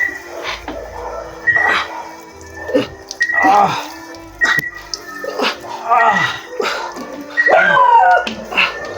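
A dog whimpers, snuffles and gives short yelps in irregular bursts, close by, with scattered background noise between them.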